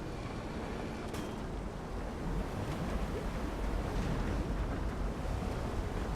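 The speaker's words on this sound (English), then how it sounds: "The water level does drain" Water draining from a stone cistern in Rise of the Tomb Raider, a steady rushing wash that swells slightly louder partway through, with a faint clink near the start and no voices.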